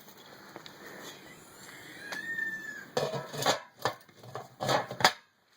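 A metal lid on a 32 quart tamale pot with the bottom cut out and crimped edges is fitted in place, a faint scrape first, then a run of close metallic clanks and knocks.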